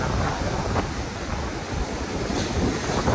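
Steady roar of ocean surf along a coast during a typhoon, continuous and fairly loud, with wind buffeting the microphone throughout.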